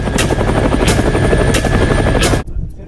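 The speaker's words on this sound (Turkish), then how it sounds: "Çok gergindi benim için helikopter yolculuğu." A helicopter in flight heard up close and loud, its rotor thudding in a steady rhythm with a constant engine whine beneath, before the sound cuts off abruptly near the end.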